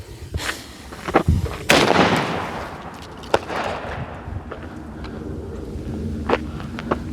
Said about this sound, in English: This is a military parachute by Winda.